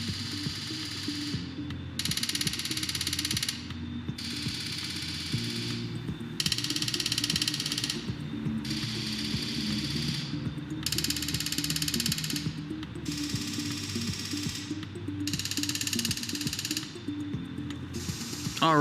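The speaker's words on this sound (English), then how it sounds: "We can hear it clicking the gas solenoids as we go here" Gas solenoids on a Caterpillar engine click in a steady repeating cycle during a valve test, each burst a sharp mechanical ticking separated by short gaps, sounding close and alone over a low engine hum.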